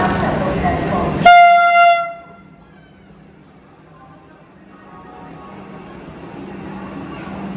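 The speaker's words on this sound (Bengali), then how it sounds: "চলে এসেছে আমাদের ট্রেন।" Vande Bharat train arriving at a station, a loud crowd murmur cut by a sharp train horn blast lasting under a second, followed by a quiet low hum of the platform.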